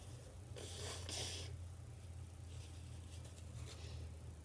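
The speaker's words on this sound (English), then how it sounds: "I need to blow my nose." Someone blows their nose close by, two short forceful puffs, followed by quiet breathing.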